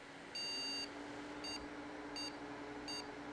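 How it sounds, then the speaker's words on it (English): Motherboard speaker sounding a POST beep code in a 2005 high-end gaming PC build: one long electronic beep followed by three short, evenly spaced beeps, clear and close over a faint steady hum. "One long beep, beep, beep,"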